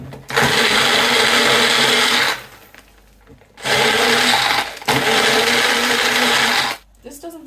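A makeshift blender whirs loudly while mixing a tequila drink, running in three long bursts of buzzing motor noise separated by short pauses, with a brief rattle at the end.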